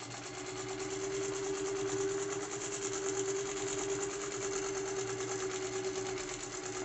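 A vintage Singer 201K sewing machine running on a mini quilt frame, its steady, close, continuous mechanical whir and rapid stitching hum holding evenly throughout.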